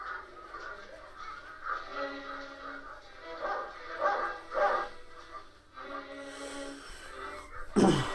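Dogs in the film Dr. No, several bouts of barking and yapping heard at moderate distance, bursts separated by short pauses over a faint background.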